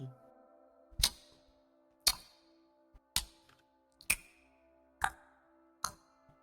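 A voice imitates a ticking clock with six sharp, evenly spaced clicks about a second apart, each crisp and close, over a faint steady background hum.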